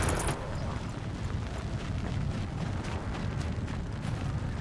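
An explosion in the game Horizon Zero Dawn: a loud, sustained rumbling roar that fills the whole stretch at an even level, with no clear talk over it.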